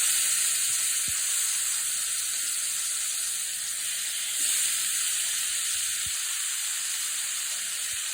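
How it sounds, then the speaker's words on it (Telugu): Pieces of chicken skin frying in hot oil with a steady, even sizzle throughout, close up, broken by a few faint clicks. "ముగిట్లో కొంచెం ఆయిల్ వేసుకుని ఆయిల్ వేడయ్యాక ఈ ముక్కలు దానిలో వేసుకొని పోయినాయి."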